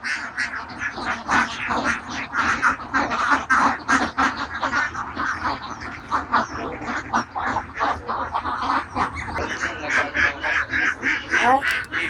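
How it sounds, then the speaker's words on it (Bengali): A flock of ducks on an open-air farm of about a thousand birds, quacking continuously and loudly, many calls overlapping in a dense, rhythmic chorus close by. "1000 হাঁস দিয়ে সেই খামারটি করেছে।"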